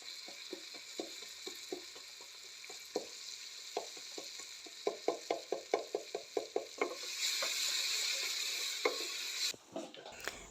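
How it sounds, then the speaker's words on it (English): Food in a pot over a fire in an African village kitchen gets stirred briskly, a run of quick scraping clacks in a fast rhythm over a faint background sizzle, close and fairly quiet. "And then I'll give this a quick stir and cook for like about a minute."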